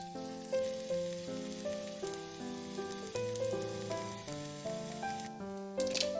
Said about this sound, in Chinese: 洋葱可以煎一下，油豆腐的话也可以煎一煎。